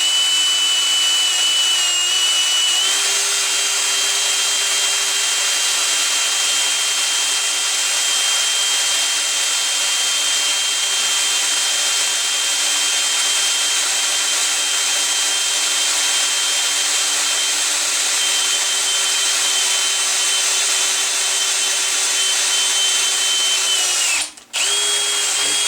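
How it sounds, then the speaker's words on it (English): A steady, high-pitched whine of a power drill boring an undersized gun touch hole into metal runs continuously, then cuts off abruptly near the end. "we should start off by drilling the hole"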